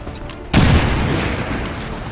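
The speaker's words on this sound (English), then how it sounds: "let's go ahead and waste a grenade" A grenade explosion in the XCOM 2 strategy game blows apart a wooden bench used as cover: a single sudden heavy boom follows a quiet moment, then a long rumbling tail of scattering debris.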